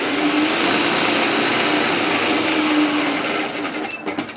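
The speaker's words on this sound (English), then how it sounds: "Sew your seam until you get to parallel to that notch." Sewing machine stitching a seam on a lined tote bag, a loud, steady, high-pitched motor whir that holds for several seconds, then slows into stuttering stitches as the machine stops.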